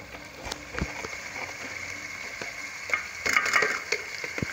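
Onions fry with ginger garlic paste in a pan for biryani, a soft steady sizzle with scattered crackles and a few scraping stirs, quiet and close with no talk.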